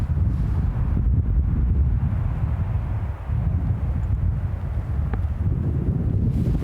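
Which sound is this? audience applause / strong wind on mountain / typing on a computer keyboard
strong wind on mountain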